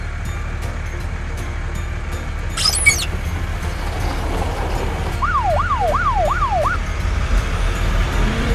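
An ambulance siren sweeps up and down in a short series of rapid cycles, moderately loud over a steady low rumble, after an earlier brief high chirp.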